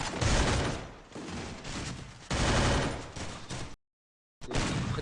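Gunfire in the Free Fire video game, a sniper among the weapons, heard as loud, close bursts of shots that roll on for several seconds, broken by a brief silent gap before a final burst.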